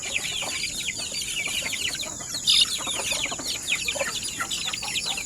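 Backyard chickens, including month-old Sweater x Melsims Black chicks, cluck and chatter continuously at close range, with a sharper squawk near the middle.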